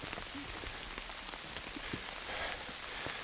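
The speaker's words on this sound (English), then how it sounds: "it was not raining earlier when we come out here, but it definitely is now" Steady rain patters on surfaces all around, a dense continuous hiss with scattered louder drops close by.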